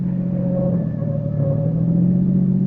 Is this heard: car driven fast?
yes